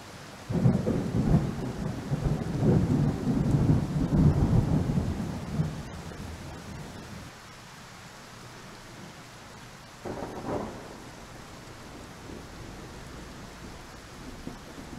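Heavy rain pours steadily in the game Car Dealership Simulator, with a deep rumble of thunder rolling through the first half, then the downpour continues more quietly with a distant crack near the end.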